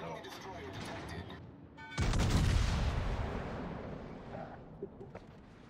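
Heavy warship guns boom in World of Warships during a naval battle, a sudden loud blast at about two seconds that rolls out into a long rumbling decay, with faint game voices and sounds before it.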